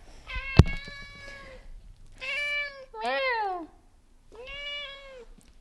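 A cat meows close by four times, long drawn-out calls separated by short pauses, with a sharp tap just before the first meow.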